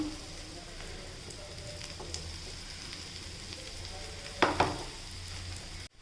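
An egg and bread cutlet shallow-frying in oil until crisp and red-brown makes a steady, moderate sizzle with a brief louder burst of spattering about two-thirds through.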